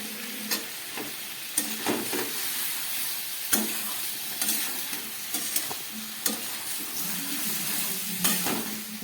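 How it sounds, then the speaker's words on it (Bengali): Spices and tomato frying in oil for a Bengali fish curry, a continuous close sizzle broken by repeated sharp clinks and scrapes of a spatula stirring the pan. "মশলা দিয়ে কষাতে গিয়ে তেল বেরিয়ে গেল"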